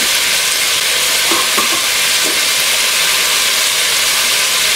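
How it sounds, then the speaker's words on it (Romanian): Bell peppers and garlic fry in a cast-iron cauldron, a loud steady sizzle with a few scraping stirs partway through, no voices. "gogoșarul cu usturoiul s-au prăjit, adaug puțină boia."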